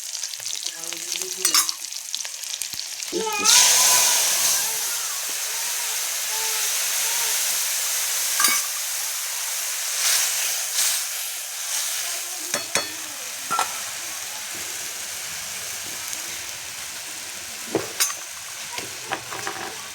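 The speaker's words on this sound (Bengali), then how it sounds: "সরষে ইলিশের জন্য কালো জিরে আর কাঁচা লঙ্কা দিয়ে দিলাম।" Nigella seeds and green chilies frying in hot oil in a pan for mustard hilsa: a continuous close sizzle and hiss, broken by sharp clinks and scrapes of stirring.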